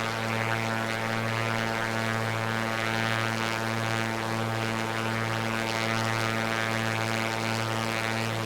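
A Piper Comanche propeller plane drones steadily in a flight simulator while approaching a landing, its engine hum loud, even and unbroken throughout.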